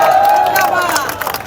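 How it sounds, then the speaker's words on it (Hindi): A crowd at a Punjab political rally claps and cheers, a loud burst of mixed hand claps and shouting voices close by, brief and dense. "जबरदस्त तालियां इनके लिए।"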